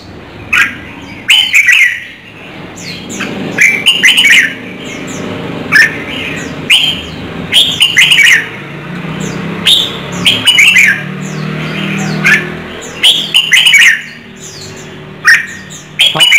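Red-whiskered bulbuls in a cage sing loudly and repeatedly, with bursts of bright chirps and whistled phrases that come again and again through a steady low background.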